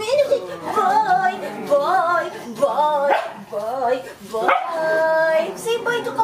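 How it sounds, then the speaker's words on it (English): Small dogs bark and yip repeatedly at close range in a home just after waking, their barks mixed with an adult's lively high-pitched talk throughout. "Don't bark!"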